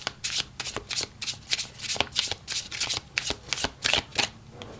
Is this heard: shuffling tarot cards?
yes